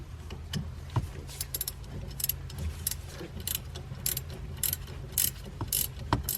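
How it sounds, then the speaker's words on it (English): Short throw shifter bolts are tightened down with a ratchet, giving a run of quick clicking ratchet strokes and small metallic clinks, close and fairly quiet, in irregular bursts. "Now I'm going to tighten them down."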